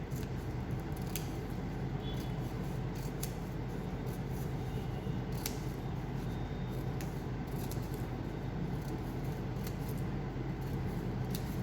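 Scissors snip through folded paper being cut into a symmetrical flower shape, a steady run of soft close cuts and rustles over a constant background hiss.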